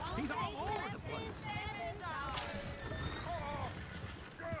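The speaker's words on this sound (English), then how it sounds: "Damn horses!" Horses in the Red Dead Redemption 2 game whinny and squeal repeatedly over steady clip-clopping hooves, with a dense background of game noise and overlapping voices throughout.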